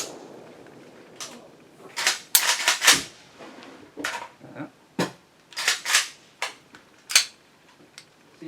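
Firestar M43 9mm pistol fired outdoors in a series of about a dozen sharp, close shots, some in quick pairs and others spaced a second or so apart.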